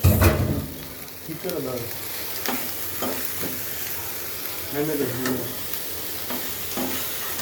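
Noodles fry and sizzle in a hot pan with steady crackling, broken by repeated scraping and stirring clatter from a utensil, close and fairly loud, with faint voices in the background.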